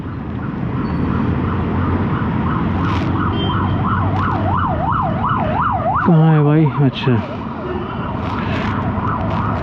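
An ambulance siren wails steadily with rising and falling tones, growing louder as it passes close by over Bangalore morning road traffic noise, with brief talk.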